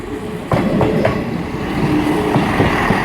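A Class 158 Sprinter train in Arriva Trains Wales colours rolls past on the Liverpool and Manchester line at Earlestown, a steady rumble broken by several rhythmic wheel clacks over the rail joints.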